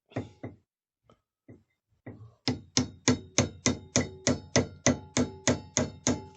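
A metal scribe set in a hole is tapped to splay it, while building a small smoke machine for a Tamiya 1/16 tank. A few scattered light knocks lead into a steady run of about a dozen sharp, evenly spaced taps.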